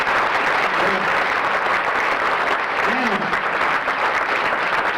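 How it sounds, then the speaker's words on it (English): Parents, families and friends applaud graduating students at an elementary school ceremony, a loud, continuous wall of clapping with a faint voice or cheer rising briefly above it midway. "Parents, families, and friends, give them one more big round of applause."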